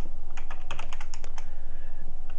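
Quick, uneven keystrokes on a computer keyboard while entering a command-line instruction, a short burst of close, crisp clicks with brief pauses and no talking.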